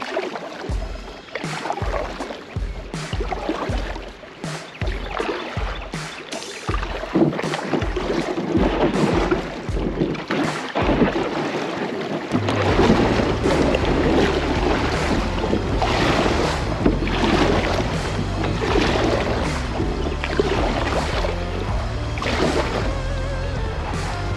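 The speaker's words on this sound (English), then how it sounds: "we drove bottom quite a bit, but did not have to get out and walk" Kayak on the shallow Brazos River below PK Lake, first with a rhythmic series of paddle strokes, then a continuous low scraping rumble as the hull drags along the river bottom, close and steady.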